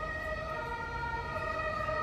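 An ambulance siren wails steadily, its sustained warbling tones loud and close over constant road rumble for the whole stretch, with no talking.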